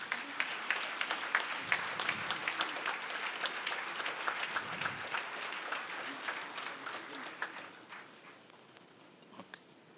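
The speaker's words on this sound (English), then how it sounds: "Please give a big applause." Audience applause at the Dynamic Indian of the Millennium Awards 2023 ceremony, a sustained crowd of clapping hands with sharp individual claps, gradually thinning and fading toward the end, with faint background voices.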